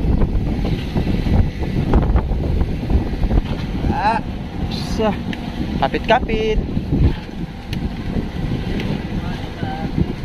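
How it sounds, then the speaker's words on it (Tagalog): Wind roars over big waves slapping a fishing boat out on the Pacific Ocean, a steady loud rush with creaks and knocks, while voices talk briefly over it. "malalaki ang alon."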